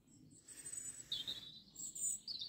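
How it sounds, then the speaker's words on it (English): Birds sing faintly on a morning at a wild campsite along the West Highland Way in Scotland, thin high chirps and whistles over quiet outdoor ambience. "nice with the bird sounds in the morning."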